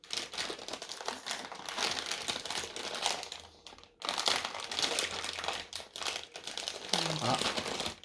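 Cardboard and plastic packaging crinkles and crackles as a Halloween snack box is opened, a busy rustling texture with a brief pause midway, while people talk quietly over it.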